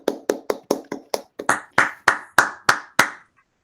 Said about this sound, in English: Please join me in a big round of applause for Peter.